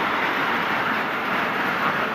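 A mini toy train running at a children's play area in Shirdi, heard as a steady, dense rumbling roar close by, continuous and fairly loud, with no distinct clicks or voices.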